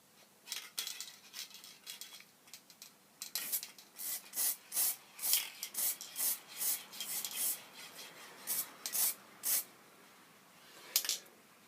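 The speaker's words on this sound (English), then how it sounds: "and just spray this lightly" Short hissing bursts of automotive clear lacquer sprayed from an aerosol can onto a carved wooden pendant, repeated in a quick irregular rhythm, fairly faint and close.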